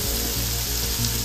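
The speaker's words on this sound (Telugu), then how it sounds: "టమాటో ఉడికే వరకు ఉడికించుకుందాం." Tomatoes cook in a hot pan with a brief, continuous sizzling and frying hiss, close and fairly soft.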